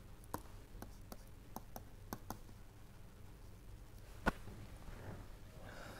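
A lecturer writes out an equation, leaving a string of quiet, sharp taps and scratches of pen or chalk spaced irregularly across a hushed room, with one louder knock near the end and no speech.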